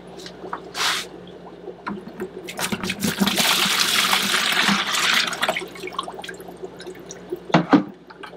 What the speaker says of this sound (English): I'm going to pour the plecos out, and hopefully we don't spill water everywhere.